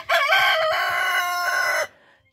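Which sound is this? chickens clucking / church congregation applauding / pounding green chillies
chickens clucking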